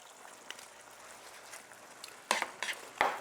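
Mongolian beef sauce bubbles and simmers in a pan, a soft steady hiss that is broken by louder stirring scrapes and clatters toward the end, with no voices.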